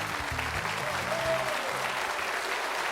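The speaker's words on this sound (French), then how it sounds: "Très applaudi aussi le Portugal, Zé Pedro." A studio audience at a French-language quiz show applauds the Portuguese contestant Zé Pedro with loud, sustained clapping, while a voice and a low tone sound faintly underneath.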